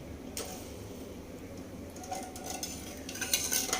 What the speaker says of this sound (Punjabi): ਗੈਸ ਚਲਾ ਕੇ ਆਪਾਂ ਇਹਨੂੰ ਉੱਤੇ ਰੱਖ ਦਿੰਦੇ